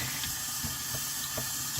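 Hot tap water runs steadily into a sink to soak old glued velvet lining from an antique wooden piece, a continuous rushing splash with faint clinks, no voices.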